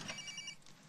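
A telephone bell rings in a room, a short burst of repeated trilling rings that fades off, with no talk over it.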